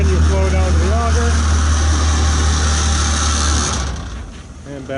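Vibrators on a sand and salt bin run to feed material down to an auger, making a loud, steady droning buzz. A voice is heard briefly early on, and the drone drops away near the end.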